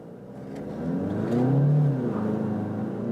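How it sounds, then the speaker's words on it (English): A Ford Galaxy family van accelerates at full throttle in sport mode, its engine rising in a steady, moderately loud drone heard from inside the cabin, swelling toward the middle of the run. "Let's now hammer the throttle again, and let's say maybe we can do from 0."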